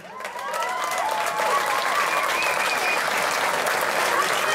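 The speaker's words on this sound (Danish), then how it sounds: "Og imens, så kan de jo få et kollektivt bifald." Collective applause from a town festival crowd honoring runners, a dense steady clapping that swells within the first half second and holds loud and continuous, with some voices mixed in.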